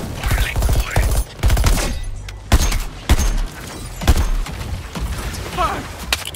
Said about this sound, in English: Focusing my fire as ordered, Deadshot.